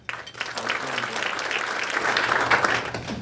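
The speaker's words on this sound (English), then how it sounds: "Please join me in applauding." Audience at an annual meeting and legislative breakfast applauds, a steady wash of many hands clapping that holds for several seconds at moderate volume with a faint low hum beneath.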